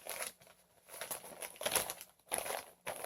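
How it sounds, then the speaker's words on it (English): A plastic gallon bag crinkles and rustles in bursts as a wig is laid flat inside it, close and fairly quiet, with short pauses between handling sounds. "you're just going to take a plastic gallon bag, and you want your wig to lay flat in the bag"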